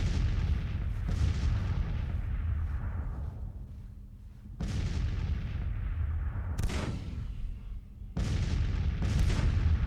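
Civil War cannon fire in Grand Tactician on a Virginia battlefield: several heavy booms land at intervals, each followed by a long rumbling decay, and one sharper report comes between them. No voices are heard.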